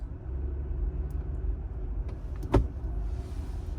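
A Jeep Gladiator rolling slowly at about 8–9 mph is shifted into four-wheel drive high: a steady low engine rumble, then one sharp click near the end.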